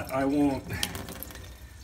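Hot water runs from an InSinkErator instant hot water dispenser into a sink, a steady hiss of flowing water that continues after a brief bit of talk at the start.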